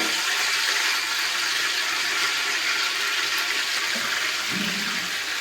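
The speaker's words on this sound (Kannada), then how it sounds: "ಎಣ್ಣೆ ಬಿಸಿ ಆಯಿತು ಈಗ ಕರಿಬೇವು ಸೊಪ್ಪನ್ನು ಬಿಡ್ತೇನೆ" Curry leaves drop into hot oil for a chicken roast, setting off a loud, continuous, close-up hiss of sizzling that holds steady throughout, with no one talking.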